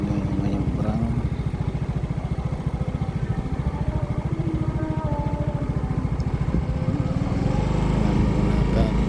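Motorcycle engines idling and chugging at a river crossing for motorbikes and pedestrians near Sungguminasa, a close, steady rapid pulsing rumble that rises slightly toward the end, with some background voices.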